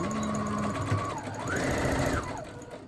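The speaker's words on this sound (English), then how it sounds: "I'm just going to stitch at a 1/4 inch seam allowance" A sewing machine runs steadily, stitching a quarter-inch seam along a fabric edge, its motor whirring at a constant pace with a slight change in pitch midway, close and continuous with no talking.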